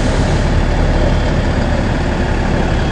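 A Cummins 6.7 liter turbo diesel idles in a 2013 TEMSA TS30 coach bus, a loud, steady low rumble heard up close with no talking.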